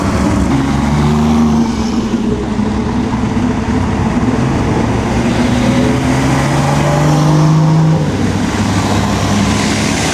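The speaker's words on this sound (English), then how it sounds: "Oh, here's that Ferrari." A Ferrari drives past at the Pebble Beach Concours: a loud, steady engine drone with shifting tones over about ten seconds, nearby and continuous, alongside traffic noise and with no talking.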